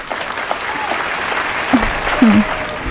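A studio audience on a Marathi quiz show claps steadily for a correct answer, a dense, even patter of applause with a few voices calling out over it.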